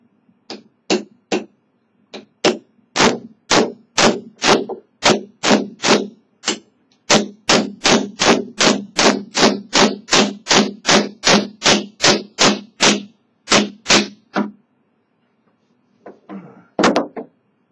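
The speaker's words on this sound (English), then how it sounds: "I want to just try whacking down on it now." A cKc Puukko knife whacks down on hard plastic again and again, making loud, sharp, close impacts in a fast, steady series with brief pauses. A final pair of blows comes after a short gap.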